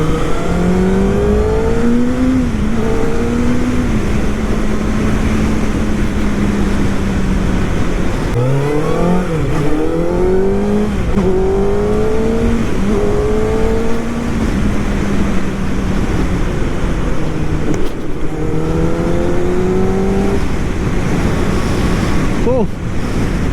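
A radio-controlled model car's motor revs up and down through repeated speed changes over steady wind and road roar, loud and close throughout.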